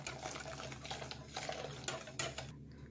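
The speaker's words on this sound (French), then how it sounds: "Je verse un peu de mon lait chaud dans le saladier." Hot milk splashes softly into a mixing bowl, with light clinks of kitchenware and a low hum underneath.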